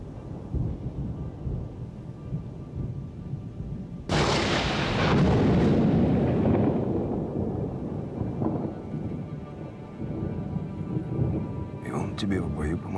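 Thunder breaks suddenly with a loud crack and a long heavy rumble over steady rain, slowly fading back to rainfall, with faint voices near the end.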